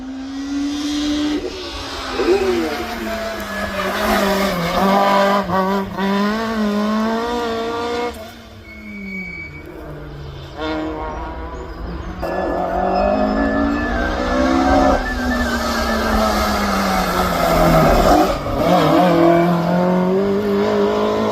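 Peugeot 106 race car at a hillclimb start line, its engine droning and revving loudly and steadily with rising and falling pitch throughout, a dip in the middle before building again, no voices.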